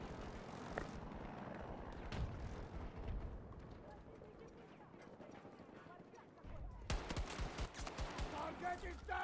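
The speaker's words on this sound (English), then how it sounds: "Okay, I'm trying to shoot people." Battlefield 2042 firefight with bursts of gunfire and explosive blasts, loud and dense, easing midway before a heavy renewed barrage near the end, with a voice speaking over it.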